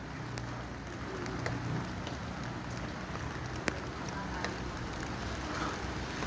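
Steady rain falls outdoors, a soft continuous patter on surfaces with occasional sharper drops, fairly faint and even throughout.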